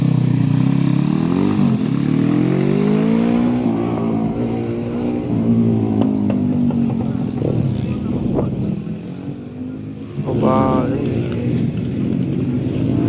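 Pit bike motorcycles race around a track, engines buzzing and revving in rising and falling sweeps as riders pass close by, heard under excited commentary from someone speaking throughout.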